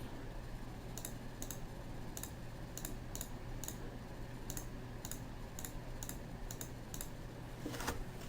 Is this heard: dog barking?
no